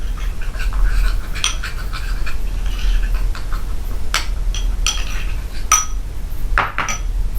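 A spoon stirs yogurt into a face pack paste in a bowl, giving light, irregular clinks and taps against the bowl over a steady soft background, with no talking.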